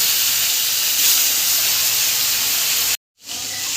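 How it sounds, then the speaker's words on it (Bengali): Bhola fish frying in hot oil make a loud, dense, even sizzle that runs steadily, then cuts out abruptly to silence before resuming more quietly. "তার জন্য ভোলা মাছগুলোকে আমি ভেজে নিচ্ছি"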